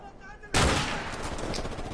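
Sudden loud burst of gunfire in Call of Duty Modern Warfare Remastered on PS4, a sharp onset followed by sustained rattling shots.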